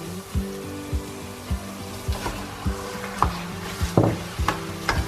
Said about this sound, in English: Now I'm going to let this meat brown in the spices and the gravy that I've cooked.